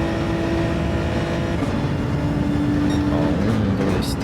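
A car engine in Gran Turismo 7 drones steadily and rises in pitch as it accelerates through the gears, with brief shifts in tone under a constant road-noise roar.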